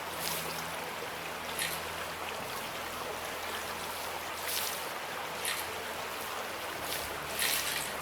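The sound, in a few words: water being dumped out in the Gold Mining Simulator video game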